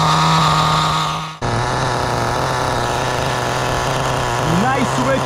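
A car engine idles steadily after a clutch repair, a continuous low rumble with a brief dip near the start and a faint higher whine toward the end; a voice speaks over it.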